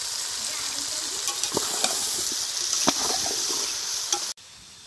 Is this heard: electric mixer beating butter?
no